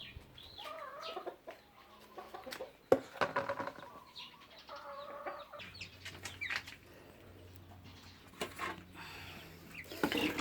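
Backyard chickens feeding, clucking and calling in bursts at moderate distance, with a few sharp pecks and a brief flutter in a quiet yard.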